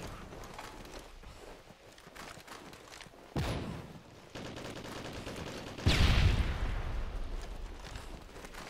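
Gunfire from a Modern Warfare 3 multiplayer free-for-all match, dense crackling shots with two louder blasts, steady and fairly close throughout.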